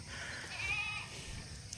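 Newborn goat kids, two young males, give a faint thin bleat in the middle over a low background rumble, distant and brief.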